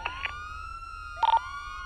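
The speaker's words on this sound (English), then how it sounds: "Turn off your sirens." Police car siren in the NoPixel roleplay server during a traffic stop, a steady electronic tone with short yelping bursts near the start and a louder burst midway, heard alone.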